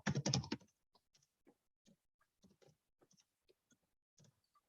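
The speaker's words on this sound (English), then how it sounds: "I'm just typing it." Someone types on a computer keyboard, with soft irregular key taps close by after a louder burst of noise at the start, quiet overall with no speech.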